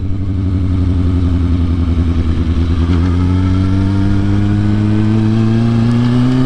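Motorcycle engine being ridden, loud and close, with a steady droning growl whose pitch climbs gradually as it accelerates, running continuously with no voices.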